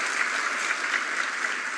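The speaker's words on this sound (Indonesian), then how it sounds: "Tepuk tangan buat Tuhan." A church congregation applauds during a sermon, a steady dense wash of clapping from many hands that holds evenly from start to finish, with no voices over it.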